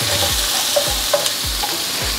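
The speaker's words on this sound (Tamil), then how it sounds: "இந்த வெங்காயத்தை சேர்த்து நல்லா வதக்கிக்கலாம்." Sliced onions with chillies sautéing in a pan, a steady frying sizzle with several regular scraping stirs of a spoon, close and fairly loud, no talk.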